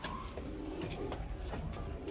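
Soft, low pigeon coos repeat a few times close by, over a steady background hum.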